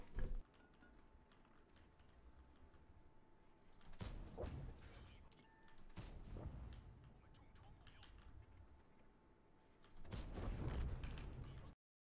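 Tank guns fire in World of Tanks, with a few heavy booming shots spaced seconds apart between quieter ticking stretches, with a loud blast near the start, another around the middle and a longer rumble at the end.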